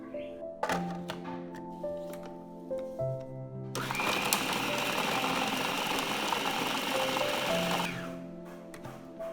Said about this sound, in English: blend the remaining ingredients into a paste as well